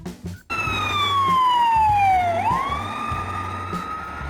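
Moldovan ambulance siren, likely on a Mercedes-Benz Sprinter, Volkswagen Crafter or Ford Transit van, wailing loud and close in one long falling sweep that then rises again, with traffic rumbling beneath.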